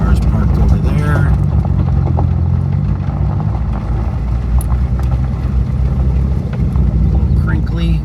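A car rolls slowly into a parking lot at a cars-and-coffee meet outside a coffee shop in Marlborough, Connecticut, its engine a steady close rumble under cabin noise, with a few voices in the background.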